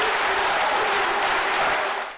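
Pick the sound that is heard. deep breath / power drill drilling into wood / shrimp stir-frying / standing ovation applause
standing ovation applause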